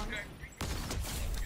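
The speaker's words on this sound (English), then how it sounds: "I'm being shot at." Sudden burst of gunfire in a video game, a quick crackling volley breaking in after a quieter moment, fairly close and mid-level.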